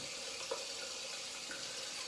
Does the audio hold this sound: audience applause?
no